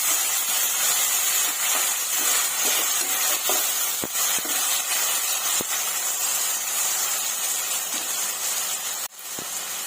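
Two medium chopped tomatoes sizzle in a pan for chole masala curry, a steady close frying hiss throughout with a few faint clicks and one brief dip near the end.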